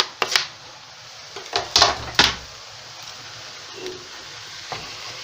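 Liver and colorful peppers fry in a pan for liver kebab, giving a steady low sizzle broken by a few sharp clatters of stirring near the start and scattered lighter knocks later.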